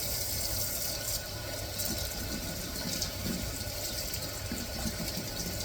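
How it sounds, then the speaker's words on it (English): Running water rinses out a cleaned brass trumpet, a steady close gush like a tap filling or splashing, continuous and fairly even throughout with no talking. "once you're done cleaning out all the pipes, you can just give her a quick rinse."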